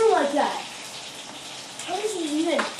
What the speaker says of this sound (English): He's probably taking a shower again.